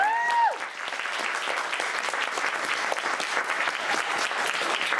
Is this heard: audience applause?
yes